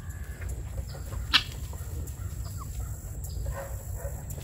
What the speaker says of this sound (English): That guinea thinks it's a chicken.